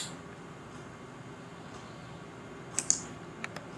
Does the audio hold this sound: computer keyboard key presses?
yes